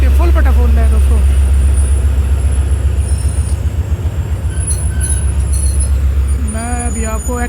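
A passenger train at Lahore Junction railway station rumbles loudly and close, with steady wheel clatter, brief squeals and tonal horn-like sounds over constant platform noise.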